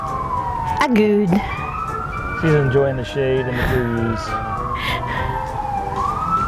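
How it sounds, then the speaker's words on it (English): Emergency vehicle sirens wail through Des Moines near the Iowa State Capitol, a rising and falling tone sweeping steadily across the whole stretch, moderately loud outdoors while someone talks over them. "And the sirens."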